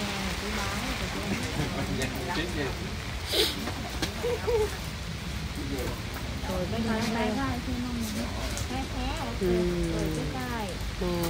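Rain falls steadily during a storm, a constant wash of noise under a person talking throughout, with occasional louder gusts or splashes.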